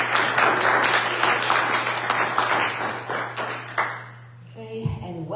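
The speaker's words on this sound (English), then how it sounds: "Let's have a nice round of applause" Steady applause from a congregation at a church fellowship service fills most of the clip, a constant low hum beneath, before the clapping fades out and a voice begins.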